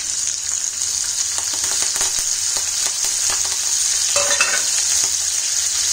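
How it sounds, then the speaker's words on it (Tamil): Green chilies and mustard seeds frying in hot oil, a loud, close, continuous sizzle with stirring scrapes and a brief sharper crackle near the end, no voices. "கடுகு நல்லா பொரிஞ்ச உடனே நம்ம கட் பண்ணி வச்சிருக்கிற பச்சை மிளகாவை சேர்த்துக்கலாம்."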